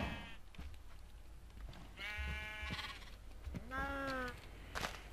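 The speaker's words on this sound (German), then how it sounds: "Jetzt haben wir noch 2 Schafe in einem Gehege." Sheep in Minecraft, two kept in a pen, bleat several times in a row, each call a clear, fairly close harmonic baa, with faint game sounds between them.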